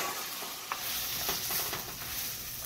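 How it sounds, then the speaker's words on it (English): Fermented tomato sauce mixed in a hot pan on high heat, with a continuous close sizzle and a few soft scraping strokes of the spoon, no voices. "Just mix it up a little bit."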